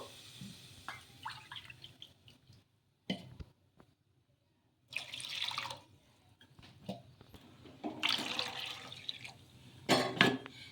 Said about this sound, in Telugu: అదే కప్పుతో నీళ్ళు అయితే వేసుకోవాలి మూడు కప్పులు